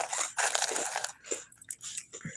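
Someone crunching and chewing Cinnamon Toast Crunch cereal up close: dense, crisp crackling bursts in the first second, then scattered smaller crunches and mouth sounds, with no talk.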